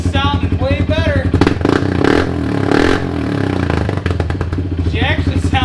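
A Kawasaki Brute Force ATV engine with a newly installed Dynojet jet kit runs loud and close, with a throbbing idle, blips of throttle and mechanical clatter throughout, while someone talks over it at the start and end.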